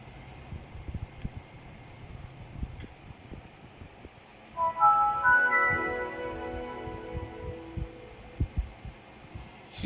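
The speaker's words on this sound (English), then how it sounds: "the amazing startup sound" Windows Vista Home Premium startup chime from 2007, a soft swelling melodic tone rising out of a low rhythmic thumping hum on a computer, ringing for a few seconds then fading.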